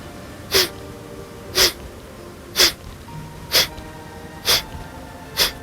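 Six short, sharp nasal exhalations in an even rhythm of about one per second during kriya yoga breathing through both nostrils, close and clear against a quiet room.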